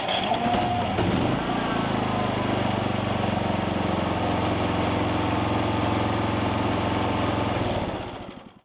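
Small off-grid engine running on propane, a steady loud low drone with a rapid throbbing pulse, held close and even until it dies away at the end.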